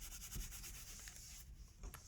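An eraser rubs across paper on a graphite drawing, giving a few soft, close, brushy scrubbing strokes, faint and brief against quiet room tone.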